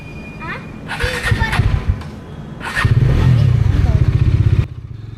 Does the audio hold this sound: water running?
no